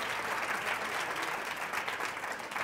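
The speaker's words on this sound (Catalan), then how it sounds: "Per tant, aplaudiment per elles també" Audience at a Catalan local TV quiz show semifinal clapping for a school team, a sustained even wash of applause with no voices on top.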